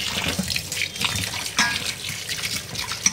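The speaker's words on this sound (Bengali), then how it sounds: "গরম মাংস নিয়ে এসছে, এবার ভালো করে ধুয়ে নিই" Tap water runs and splashes steadily into a sink while raw meat is rinsed under it, a close, continuous wet gurgle with small irregular splashes and no talking.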